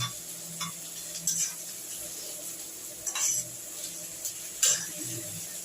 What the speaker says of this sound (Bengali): এবার এর সঙ্গে একটু এরকম ভাজতে থাকবে